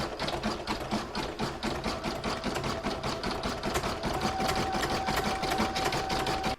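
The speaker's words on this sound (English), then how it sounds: "I'm now going to pop my hoop back in my machine and stitch round number 14, which is going to zigzag all the way around the edges" An embroidery machine stitches a zigzag border around a hooped snowman coaster design, a loud, fast, steady mechanical chatter of needle strokes running continuously up close.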